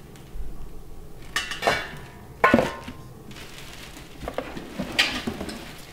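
Metal parts of a steam juicer, the tube, lid and strainer, handled on a counter, making a few scattered clanks and clinks like pots and lids knocking together, moderately close with quiet gaps between.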